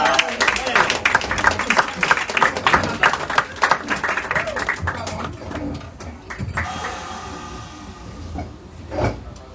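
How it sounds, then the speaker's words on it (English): Audience applause and clapping for a guest singer at a concert, a dense burst of claps that thins and fades out, with people talking over and after it. "big applause for Adriana"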